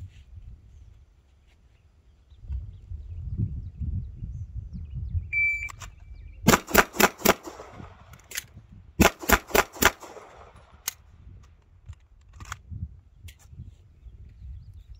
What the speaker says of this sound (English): We're going to try our competition gun, see how fast we can do 4, reload 4.